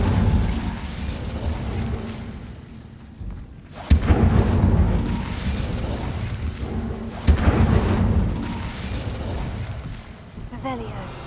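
Two sudden whooshing bursts of fire, about three seconds apart, come from the Incendio spell being cast in Hogwarts Legacy, each a sharp onset followed by a roaring crackle over rumbling game ambience.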